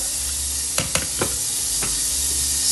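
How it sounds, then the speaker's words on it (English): A burger sizzles in butter in a frying pan, a loud continuous hiss with a few sharp clinks of a utensil against the pan. "That's a sizzle sound."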